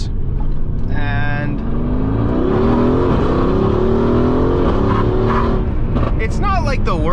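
A widebody Mercedes-AMG accelerating at full throttle, the engine note climbing loudly through the revs with a brief high whine, while someone talks over it.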